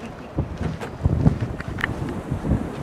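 Gusty wind on a beach near low tide buffets the microphone, a low rumbling roar that swells and eases, loud and close, with no talking.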